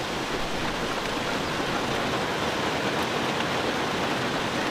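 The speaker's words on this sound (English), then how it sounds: "The rain came sluicing straight down. It pounded hard on the foothills forest" Heavy rain pours straight down on a foothills forest, a dense, unbroken roaring hiss that stays loud and even throughout, with no voices.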